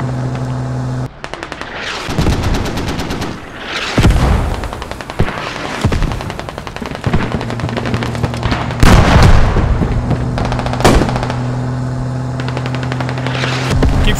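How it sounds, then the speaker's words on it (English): Mortar and gunfire boom in a Squad battle. Bursts of rapid gunfire and heavy impacts crack through loudly and repeatedly, with a steady engine-like hum running underneath. "Keep shooting those mortars, those are really good ones."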